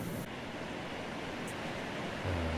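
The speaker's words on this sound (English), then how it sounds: "This is the Big Falls that is in town." Big Falls waterfall at Ohiopyle State Park, heard as a continuous broad roar of rushing water with a low rumble rising near the end, no voices.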